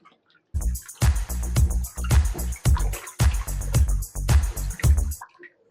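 Fish pieces are sloshed and mixed by hand in a vessel of water, making about eight close, splashy bursts in a fairly even rhythm, with no talking.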